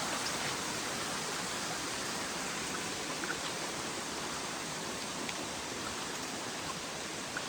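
Wind blows hard near a tent site at a hiking shelter campsite, a constant, even rushing roar that fills the whole stretch without letting up.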